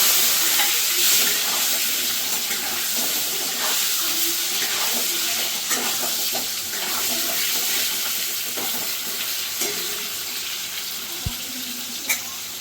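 Potatoes go into hot oil tempered with cumin seeds and sizzle steadily throughout, with faint stirring and scraping plus a few sharp clinks near the end, and no voices.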